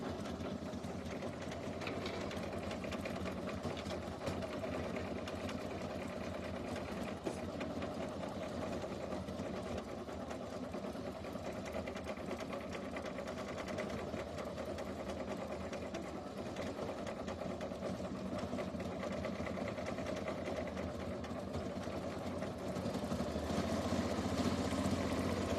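Sewing machine running steadily while it satin-stitches a flower circle coaster, a continuous close mechanical whir with fast needle chatter and no pauses.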